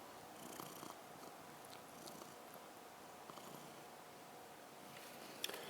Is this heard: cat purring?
yes